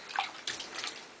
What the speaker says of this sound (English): I'm having a bath.